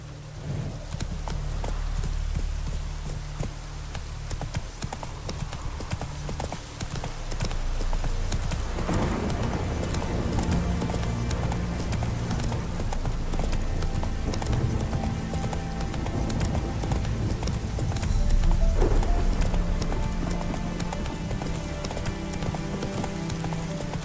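Roach, a horse in the video game The Witcher 3, gallops with rapid, close hoofbeats that run continuously over a rumbling background, briefly picking up intensity partway through.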